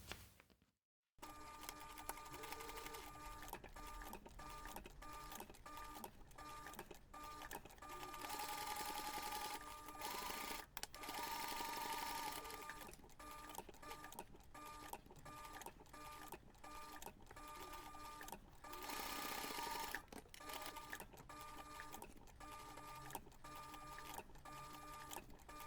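Domestic sewing machine running in steady bursts while stitching the flap seam of a flexi coin pouch, a close, even mechanical whir with short pauses and clicks between runs.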